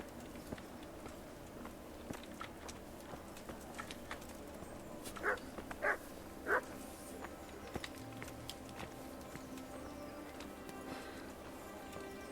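A dog barks in a town square in Kingdom Come: Deliverance, three short, faint barks in quick succession over a quiet, murmuring background.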